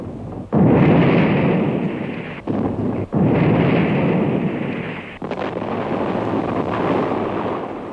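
Abandoned guns and wrecked Turkish emplacements are blown up, heard as loud, booming, continuous blast rumble with a few abrupt breaks between heavy explosive surges, up close and alone.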